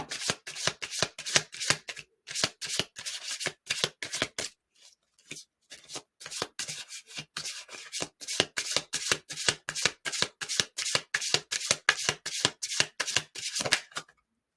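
Tarot cards being shuffled over and over, a close crisp riffle repeating in fast rhythmic bursts with one short pause partway through, with no voices.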